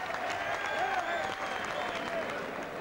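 Crowd applause at the St Andrews Sporting Club after a boxing contest, a steady mass of clapping mixed with cheers and whistles from the hall, all at a moderate level.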